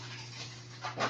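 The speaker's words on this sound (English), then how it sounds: "We actually have 3 dogs." A pet dog pants close by: a steady, breathy rasp over a low electrical hum, growing a little louder with the last few breaths.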